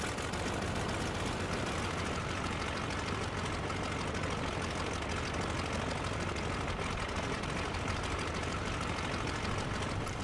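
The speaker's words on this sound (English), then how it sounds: "So now the engine's started, we'll get ready for taxi." The engine of a Sopwith Dolphin idles in a flight simulator game, a dense, even rumble that holds steady without a break or any talk.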